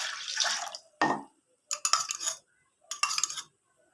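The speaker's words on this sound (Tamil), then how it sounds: "நம்ம தண்ணி சேர்த்திக்கலாங்க." Water poured in several short bursts onto washed lentils and turmeric in a pot for sambar, splashing and trickling with brief pauses between pours, close and fairly loud.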